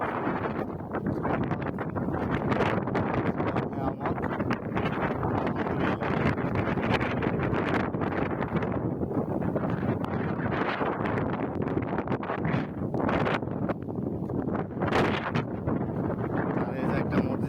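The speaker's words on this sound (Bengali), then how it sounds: "বৃষ্টি প্রচুর বাতাস, আর বৃষ্টিকে উপলব্ধি করার জন্য আজকে বাইরে ঘুরতেছি।" Strong wind roars across the microphone in constant gusts outdoors during a rainstorm, with a dense wash of rain noise underneath.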